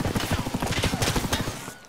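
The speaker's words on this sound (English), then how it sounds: "I don't know where I got shot from, Mech." Fast automatic gunfire in the shooter game Escape From Tarkov, a loud, close burst of rapid rhythmic shots lasting about two seconds.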